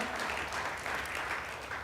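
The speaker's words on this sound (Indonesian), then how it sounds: "Yang setuju berikan tepuk tangan buat Tuhan." A church congregation claps during a sermon, a soft, continuous patter of many hands heard at a distance in a reverberant hall.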